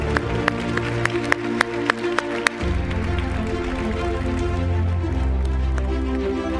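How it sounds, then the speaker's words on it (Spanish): Audience applause at a round-table panel event, a steady broadband crowd clapping that swells after a few sharp claps and continues alone without talk. "Un fuerte aplauso."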